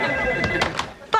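An old-fashioned telephone bell rings in short repeated bursts, loud and close, at a sitcom home phone, with a steady tone running beneath the rings.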